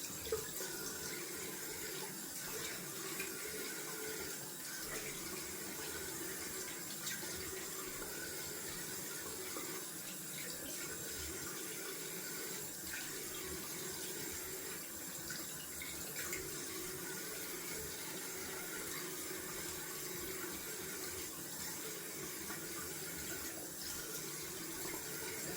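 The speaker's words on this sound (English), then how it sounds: "Gonna rinse off with cold water" A bathroom tap runs cold water into a sink for rinsing after a wet shave, giving a steady, quiet splashing hiss that continues unbroken for about twenty-five seconds with no talking.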